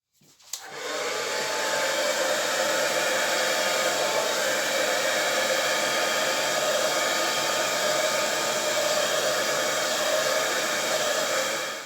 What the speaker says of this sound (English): So I'm going to blow this out with the hairdryer just to cover the canvas.